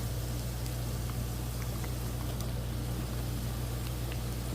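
Potatoes and onions cook in an electric skillet for a beef and potato dish, giving a quiet, steady sizzling hiss that runs unbroken from start to finish with no voices.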